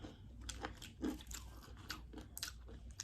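Crunchy Popeyes fried chicken is bitten and chewed up close, a run of crisp, crackling crunches in irregular rhythm with no talking.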